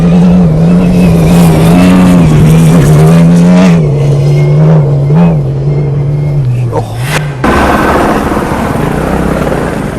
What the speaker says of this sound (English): This is what it looks like when a car comes past.